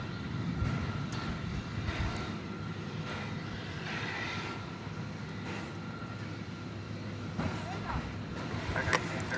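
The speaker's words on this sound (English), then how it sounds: "So here's the LAX-bound Dreamliner," An LAX-bound Boeing 787 Dreamliner takes off at DFW Airport, a steady, distant broadband jet roar that stays even throughout, with faint talk likely underneath.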